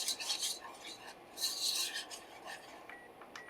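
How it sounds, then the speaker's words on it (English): A whisk scrapes through a browning mixture in a pan, bursts of rasping strokes that come in an uneven rhythm, close up and fairly quiet, with no talking. "now we're gonna whisk this all together"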